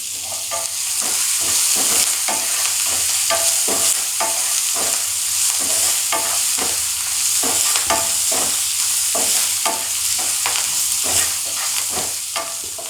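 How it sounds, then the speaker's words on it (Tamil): Onions frying in oil and being stirred for a mutton liver gravy, giving a steady close sizzle with regular scraping strokes of the spoon in the pan, no talking. "வெங்காயம் நல்லா வதங்கட்டும்"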